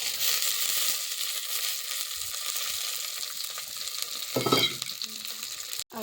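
Chopped onions and tomatoes fry in hot oil in a pan, a steady close hiss and crackle with scraping stirs of a spoon, ending in a brief sharp knock.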